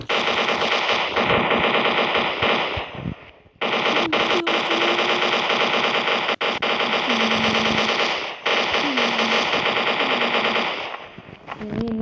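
Machine gun fire from Counter-Strike 1.6 rattles in long, loud, nearly continuous bursts, broken only by a couple of brief pauses, with sharp gunshot cracks and echoing tails.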